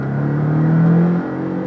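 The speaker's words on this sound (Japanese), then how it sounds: "どちらかというとのぶとい音ですね" Porsche 718 Boxster S engine accelerating on a test drive, a deep, thick hum with a steadily rising tone that swells and then eases off, heard close and continuous with no talking.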